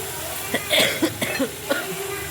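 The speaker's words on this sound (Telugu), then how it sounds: "వాయిస్ ఓవర్ ఇస్తుంటే దగ్గు అయితే వస్తుంది" A person with a sore throat coughs several times in a row, with close, dry bursts that come at uneven gaps and that include a louder, harsher fit of coughing.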